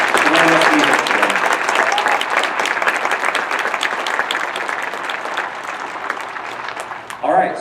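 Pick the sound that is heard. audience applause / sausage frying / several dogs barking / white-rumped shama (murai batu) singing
audience applause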